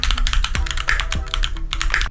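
Keys clack on a Keychron Q1 Knob custom mechanical keyboard paired with a Mac, a quick, uneven run of crisp, close strokes with no talking.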